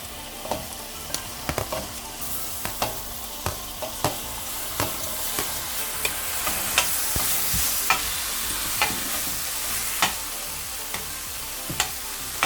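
Tomato and onion frying in a pan for veg kothu parotta, a steady sizzle broken by sharp, regular scrapes and taps of a spoon stirring against the pan, close and alone with no talk.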